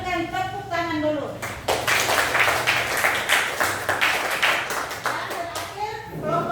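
A classroom of students claps for a group presenting about the moon, a dense burst of hands that swells in the middle and fades, with children's voices and a teacher speaking before and after.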